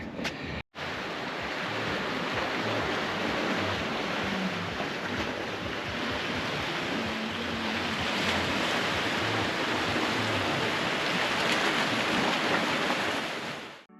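Ocean surf rolls onto Simpson Beach in Broome, a steady broad wash of breaking waves mixed with wind buffeting the microphone, continuous and fairly loud throughout.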